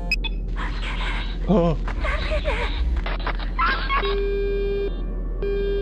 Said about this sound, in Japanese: スコンブから電話だ。